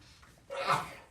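A single short sneeze, fairly close, bursting out after a moment of quiet room tone.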